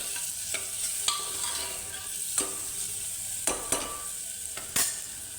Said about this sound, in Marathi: कांदा टमॅटो आणि त्याच्यामध्ये टाकायचा हा कोल्हापुरी मसाला हळद आणि मीठ चांगलं मिक्स करून घ्यायचं